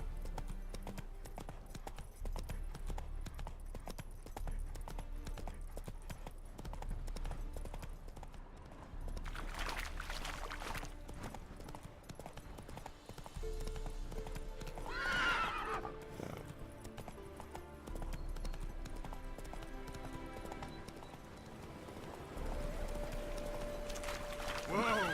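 In The Witcher 3, Roach the horse gallops with steady rhythmic hoofbeats and gives a couple of sharp whinnies along the way. Faint game sounds run underneath the hooves.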